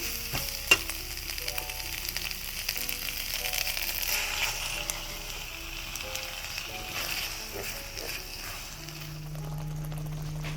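Tomato tipped into ground chili paste sautéing in hot oil for a spicy, tangy Andhra-style fish curry sizzles steadily and loudly up close, with light stirring clatter over the continuous frying hiss and no talking.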